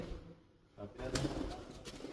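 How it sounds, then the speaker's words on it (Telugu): Pigeons coo softly at an unfinished temple, low repeated calls under a faint voice and ambient hum. "మొత్తం పావురాలే ఉన్నాయి ఆడ"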